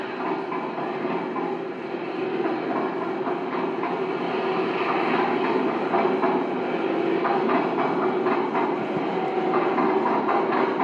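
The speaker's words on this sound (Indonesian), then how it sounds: "Perhatikan kecepatan kereta api itu." A train rolls past steadily in a played recording, its continuous rumble and rhythmic clickety-clack of wheels on rails holding at an even, moderately loud level from start to finish, with no talking.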